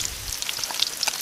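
Onion is added to sizzling oil with garlic, producing a close, steady, fizzy hiss with small rapid crackles throughout.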